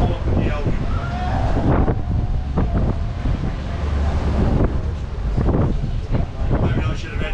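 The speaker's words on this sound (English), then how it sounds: "Very hard to hear you with the wind in the ear and the engines." Heavy wind buffeting a microphone on a boat trip out to Green Island reef in Far North Queensland, with boat engines rumbling low throughout and a voice talking intermittently over the steady roar.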